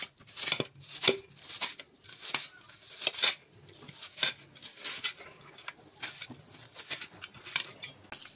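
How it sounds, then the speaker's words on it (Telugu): A knife thinly slices onion on a board for an Andhra-style small fish curry, giving crisp, close, evenly spaced cutting strokes with steady rhythm and moderate loudness. "అప్పుడు సన్నంగా కట్ చేసి పెట్టుకోవాలి."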